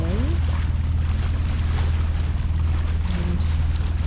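A sailboat motor-sails in light wind on Corpus Christi Bay, its engine a loud steady low throb pulsing evenly throughout, with wind buffeting the microphone and water wash around the hull.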